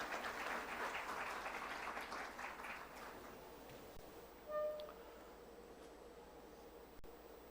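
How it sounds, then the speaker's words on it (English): Applause from an audience at a formal NPS Diwas 2025 event, a dense patter of clapping that fades over the first few seconds into a quieter room with a brief tone. "Please give a huge round of applause to Dr. Nageshwaran."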